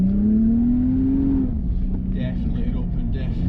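A Lexus IS200 with an open differential revs hard during a drift test, its engine note climbing steadily for about a second and a half before dropping back to a lower drone, with people talking over it.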